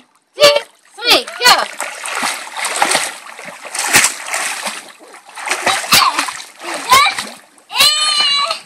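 A small child splashing while swimming in a pool, bursts of close water slaps and churning throughout, with a voice and an adult speaking over the splashes.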